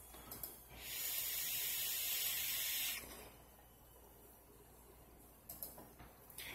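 An e-cigarette draw with the airflow half closed, a steady breathy hiss lasting about two seconds, close and fairly quiet, framed by small clicks and mouth sounds.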